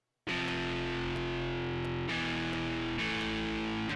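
MIDI-sequenced guitar with heavy distortion effect plays sustained, buzzing held chords in three long blocks, loud and alone with brief breaks between them.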